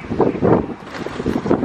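Gusty outdoor wind buffets the microphone in loud, rough pulses, a continuous roar with brief surges and no speech.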